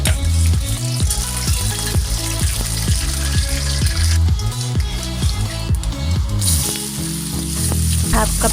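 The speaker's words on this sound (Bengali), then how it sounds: "তেজপাতা দিয়েছি, এলাচ দিয়েছি, দারচিনি, লবঙ্গ, গোলমরিচ দিয়ে ভালোভাবে নেড়ে নেব।" Bay leaf, cardamom, cinnamon, cloves and pepper fry loudly in hot oil, a dense, close sizzle with a steady, rhythmic scraping as the spices are stirred, continuing without pause and no one talking.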